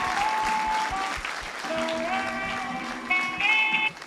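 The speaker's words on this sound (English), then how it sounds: "Please, another round of applause." Audience applause at a TEDx event at a Nigerian university, continuous clapping with sustained tonal music playing over it and rising near the end.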